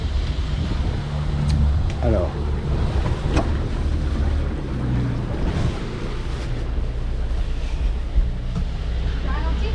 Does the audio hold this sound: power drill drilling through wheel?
no